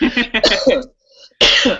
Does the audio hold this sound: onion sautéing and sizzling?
no